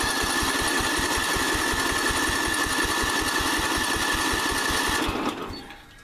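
A Work Horse engine that has sat unused cranks and runs with a rapid, steady mechanical chatter, loud and close, then cuts off abruptly near the end.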